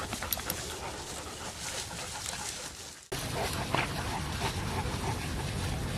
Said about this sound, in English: She's actually a really sweet dog.